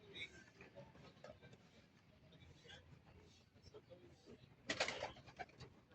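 Pigeons at a home loft in Plaridel, Bulacan coo softly and intermittently through steady background noise, with a brief louder burst near the end and someone talking over them.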